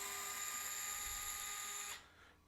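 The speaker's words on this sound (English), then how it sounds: "rotary gyroscopic screwdriver is awesome. So like when you turn it on, it's not spinning, but if I turn my wrist, it turns." A rotary gyroscopic power screwdriver whirs with a steady high motor whine as it backs out mounting screws from a PRS guitar's bridge, then cuts off abruptly, leaving quiet.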